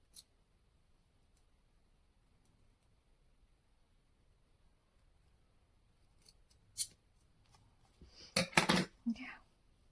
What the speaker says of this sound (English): Now you can just give it a snip.